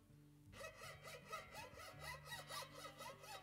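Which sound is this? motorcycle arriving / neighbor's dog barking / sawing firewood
sawing firewood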